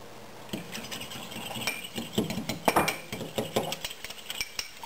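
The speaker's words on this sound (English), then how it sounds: "So I beat an egg. Add about a tablespoon of milk to it." An egg beaten with a tablespoon of milk in a bowl, the utensil clinking and tapping against the sides in quick, irregular strokes that grow busier partway through, close and fairly quiet.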